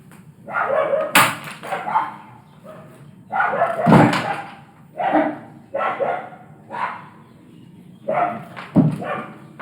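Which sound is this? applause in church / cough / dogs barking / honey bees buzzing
dogs barking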